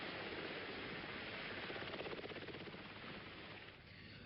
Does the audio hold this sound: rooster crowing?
no